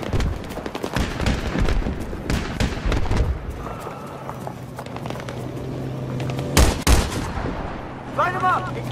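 Heavy gunfire rips through a Battlefield 3 firefight played on Xbox 360, with dense overlapping rifle and machine-gun bursts, booming impacts and engine rumble underneath, loud and close throughout.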